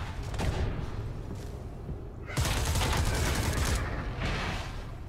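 Gunfire from wild shooting in The Persistence video game comes as dense, rapid bursts of automatic fire. The shots are loud and close, pause briefly, then resume harder and run on with a steady rattle.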